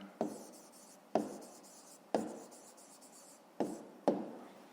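A hand writes an answer on paper during a fifth-grade maths exercise; five crisp scratchy pen strokes land one after another, close and clear, with no talking.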